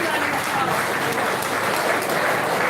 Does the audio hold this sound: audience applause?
yes